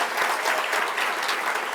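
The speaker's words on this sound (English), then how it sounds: "Please give them a round of applause and thank you them." A breakfast crowd at a Making Strides Against Breast Cancer event breaks into dense, sustained applause, an even wash of many hands clapping with no voices over it.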